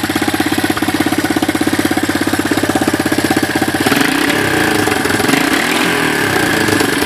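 A 1984 Honda 200ES ATV engine running, first a rapid even idle chug close by, then revving up into a rougher, louder and busier roar for the last few seconds.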